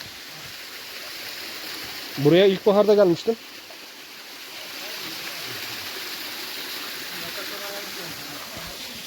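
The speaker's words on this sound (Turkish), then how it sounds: "bulunduğumuz derenin adı İsrafil Deresi" Steady rushing of the İsrafil Deresi stream fills the whole clip, with someone speaking briefly over it near the start.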